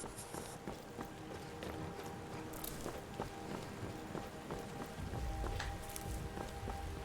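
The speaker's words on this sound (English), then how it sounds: "Starting to rain." Rainfall beginning in the video game Skyrim, a steady broadband hiss with scattered droplet taps and soft footsteps, swelling a little louder toward the end.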